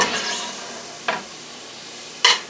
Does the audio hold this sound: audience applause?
no